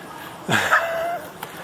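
A single short, high-pitched dog whine that rises and then trails off, close by against a quiet background.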